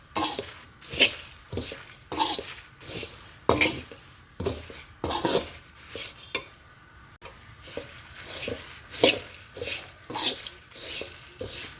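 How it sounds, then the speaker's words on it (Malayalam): Chammanthi podi with tamarind being stirred in a pan, a steady run of scraping spoon strokes against the metal with soft clinks, close and clear with no voices. "ഇതും കൂടി ചേർത്ത് നന്നായിട്ട് ഇളക്കി കൊടുക്കാം."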